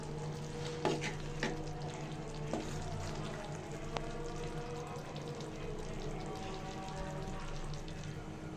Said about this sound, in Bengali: মশলাটা ভালো করে কষিয়ে নিয়ে দিয়ে দিব কলিজাগুলো দিয়ে ভালো করে